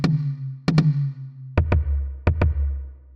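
Synthesized cinematic tom drum made in Phase Plant, struck in a pattern of one hit then quick pairs, each with a sharp attack and a deep booming tonal body that rings between hits, loud and alone.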